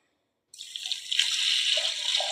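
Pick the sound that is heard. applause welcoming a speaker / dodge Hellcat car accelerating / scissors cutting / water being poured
water being poured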